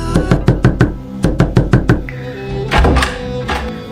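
A closed door that won't open is knocked on and pushed in a comedy sketch: a rapid run of about six heavy knocks, a pause, another run of knocks, then duller rattling thumps as the door is shoved, with no talk.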